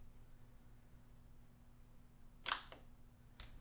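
Magnets on an iPad smart cover snap onto the tablet, giving a sharp close click followed by a quieter second snap a moment later, over faint room hum.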